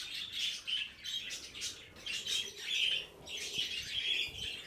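Pet birds in an indoor aviary chirp and tweet in agitated bursts, a busy overlapping flurry of high calls rising and falling throughout, fairly close, with no talking.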